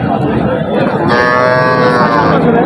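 A young desi calf at a crowded cattle market gives a loud, close, drawn-out moo that swells and holds through most of the moment, over a dense background of chattering buyers and sellers.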